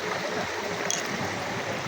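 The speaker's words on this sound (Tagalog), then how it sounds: "Tingnan nyo yung bagsak ng tubig, oh." Clear water falls and rushes in a stream or small waterfall, a steady close wash of broadband noise with no pauses, alone without voices.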